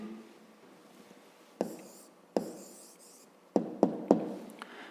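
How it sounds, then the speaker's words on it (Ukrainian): Pen writing an answer by hand on paper during a fifth-grade math exercise, faint close scratching broken by sharp taps and strokes in irregular bursts, with no talk. "Ну що ж, записуємо тоді відповідь."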